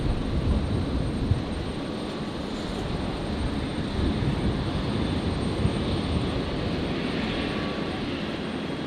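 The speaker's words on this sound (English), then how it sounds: "So that's Qantas Link 356 on screen. The Embraer just arrived from Wellington in New Zealand." A Qantas Link Embraer jet, flight 356 arriving from Wellington, lands on runway 01 right at Brisbane: a continuous, fairly loud engine roar that stays level from start to finish, with no talking.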